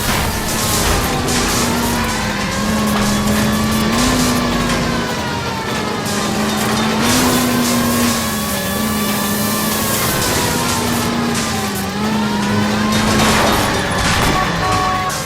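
In LA Noire, a hijacked 1110 University streetcar races through a chase while a wailing siren rises and falls repeatedly over loud rumbling engine and road noise.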